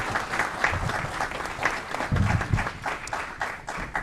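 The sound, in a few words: audience applause for Julian Spencer Jr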